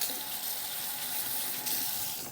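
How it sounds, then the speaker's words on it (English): Tap water runs steadily into a sink as rice is rinsed off a child's hands while making a lunch, a continuous close hiss and splash with no voices. "We gotta rinse the extra rice off her hands."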